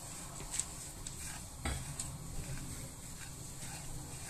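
Hands work sunflower oil into Moroccan couscous semolina with a soft continuous rustling and grainy shuffling, quiet and close, with a few faint clicks. No one speaks.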